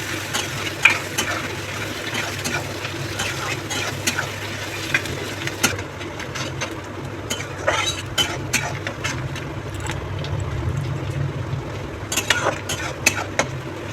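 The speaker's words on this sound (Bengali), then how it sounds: "দিয়ে পেঁয়াজটাকে হালকা ব্রাউন হওয়া পর্যন্ত নেড়ে নেব" Sliced onion and green chillies fry in a pan while being stirred until light brown, making a continuous sizzle under repeated scraping strokes of a spatula.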